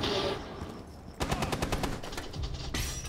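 Rapid bursts of automatic gunfire in Rainbow Six Siege rattle off in a fast, steady rhythm, loud and close, with a brief pause before another volley.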